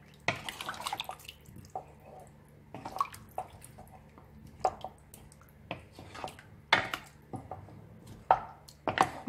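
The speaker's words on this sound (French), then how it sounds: "Et maintenant, nous allons mélanger le tout. On mélange bien." Beef dish ingredients being stirred and mixed together by hand, giving wet squishing and tapping sounds in irregular bursts close by, with quiet moments between strokes and no talking.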